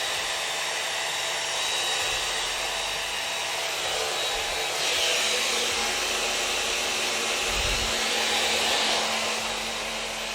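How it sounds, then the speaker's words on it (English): A blender runs loud and steady for the whole stretch, grinding a mixture of mac and cheese and beer into a smooth blend, with a constant high motor whine and no voices over it. "We want this as blended as possible, so that way we don't have to strain as much."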